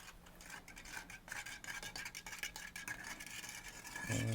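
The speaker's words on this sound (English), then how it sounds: "And we mix it." A baking soda mixture is stirred in a container for a kitchen science demo, producing faint, continuous scraping and clinking with irregular taps, ending with a low rising rumble.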